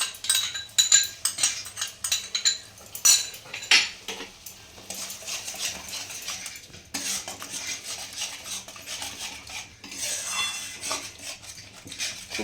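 A spoon stirs yogurt into fish curry in a metal pan, scraping and clinking steadily at close range in a continuous rhythm, with louder clatter early on.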